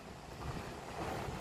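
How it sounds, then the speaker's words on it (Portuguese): Large ocean waves break at Nazaré beach in Portugal, a steady rushing roar of surf with gusty wind noise over it, broad and continuous, with no voices. "As ondas são enormes."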